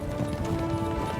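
A herd of horses gallops in a video game, a dense, rapid clatter of many hooves drumming close and steady over a brief stretch, with a faint tonal hum beneath.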